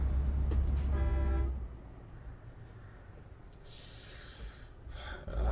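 A truck horn in Euro Truck Simulator 2 sounds one short, loud, tonal blast over heavy low engine rumble, followed by quieter driving noise.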